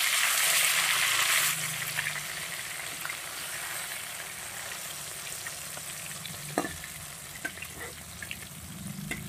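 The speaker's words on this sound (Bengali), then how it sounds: "প্রথমে আমি মাছটা ভেজে নিচ্ছি।" Steady sizzling of fish frying in hot oil, a constant crackling hiss with a few sharper pops and clinks partway through.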